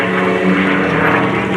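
A restored P-51 Mustang, the polished warbird Quicksilver, roars past at an air show, its propeller engine droning loud and steady with a rich low harmonic hum throughout, no voices.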